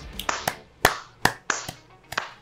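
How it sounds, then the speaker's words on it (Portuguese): Several sharp hand claps in an irregular burst, close and fairly loud, with no talking, in a casual setting during a Pokémon card game. "palmas."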